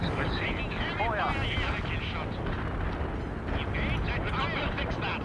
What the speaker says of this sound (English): We can start a heavy barrage. The barrage is on the way.